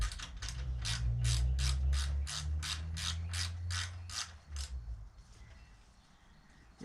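A ratchet runs a bolt into rusty threads on a 2018 Harley-Davidson Sport Glide softail frame, ticking in a steady, even rhythm of close clicks for about five seconds before fading into quiet.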